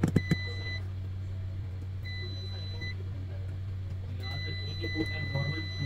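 A multimeter in continuity mode, probing a coil on a Dell laptop motherboard, gives three clear sustained beeps of about a second each over a steady low electrical hum.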